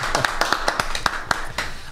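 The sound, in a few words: audience applauding the fans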